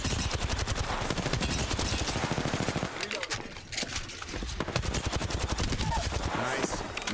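Volt energy SMG gunfire from Apex Legends Season 6: loud, rapid automatic bursts rattle almost continuously, with a short lull mid-way, mixed with game effects and players talking over the action.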